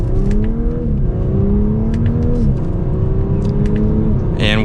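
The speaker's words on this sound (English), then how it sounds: "And with a mild acceleration up to speed, as you can tell, not loud like I mentioned earlier." A 2023 Audi S5 Sportback pulls away with mild acceleration, its exhaust a steady, moderate drone that climbs slowly in pitch through a couple of gear changes, heard from inside the car.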